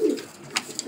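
Racing homer pigeons, grizzle and red checker birds kept for sale, give a short, close coo in a quiet loft with faint background noise.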